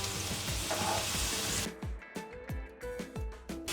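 Onions frying in a pan until browned, for a dhaba-style egg tarka; a dense sizzle for the first half, then a quieter stretch broken by repeated short scrapes and clinks as the onions are stirred.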